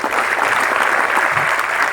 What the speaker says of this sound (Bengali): একটা জোর হাততালি হয়ে যায়।